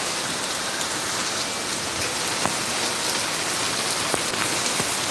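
Heavy rain pours down steadily on surfaces outside a house overlooking a field and pond, a dense, loud, unbroken hiss with occasional sharper drips.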